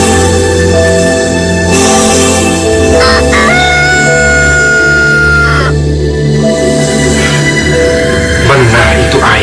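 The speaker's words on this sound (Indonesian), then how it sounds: "perasaan saya mendengar suara ayam, tapi suaranya kok tidak seperti ayam" A rooster crows loudly beneath dense music and sound effects in a dramatized scene, the call rising and falling a few times against a constant backdrop.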